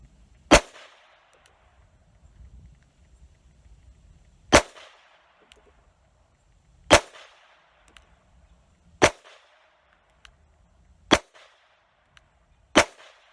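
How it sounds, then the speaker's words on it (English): A Beretta 950BS .25 ACP pistol fires six sharp, cracking shots at a small steel target about 20 yards away, spaced roughly two seconds apart, each followed by a brief ring and quiet between. "I'm gonna try to fire at this small piece of steel at about 20 yards."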